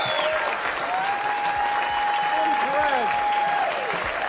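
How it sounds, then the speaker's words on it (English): At a live stand-up comedy club, a crowd applauds loudly and continuously for the comedians, with a long, sustained whistle cutting across the clapping near the middle. "I think we owe them some applause, don't you?"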